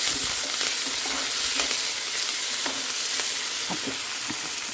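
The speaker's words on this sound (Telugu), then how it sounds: "క్యారెట్లు అన్నీ ఫ్రై అయినాయి ఉల్లిగడ్డ కూడా మంచిగానే ఫ్రై అయింది" Carrots and onions frying in a pan for upma give a steady, close sizzle with faint stirring scrapes throughout, no voices.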